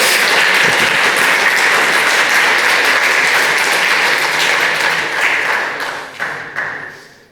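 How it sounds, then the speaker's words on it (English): Audience applause follows a presentation, a dense, steady wash of clapping that holds loud for several seconds before thinning into scattered claps and fading out. "go ahead and clap"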